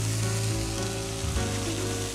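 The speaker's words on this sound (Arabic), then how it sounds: "بدنا نقليهم. مزبوط. نحمرهم شوي" Chicken breast frying in butter in a pan, giving a continuous close, loud sizzle with faint stirring and no voices.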